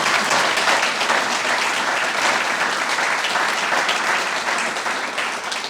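Sustained audience applause at a university lecture on AI and life science, a dense steady wash of many hands clapping close by, fading slightly at the end, with no voices over it.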